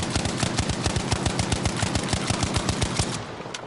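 Rapid single-fire gunshots in the video game Battlefield V, fired as fast as possible, a dense, loud stream of evenly spaced cracks that goes on for about three seconds and then stops.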